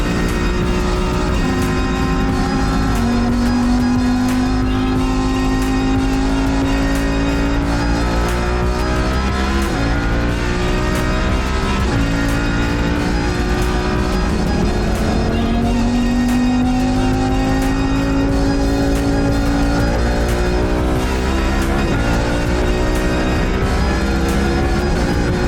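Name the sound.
Lamborghini engine on racetrack, down a cylinder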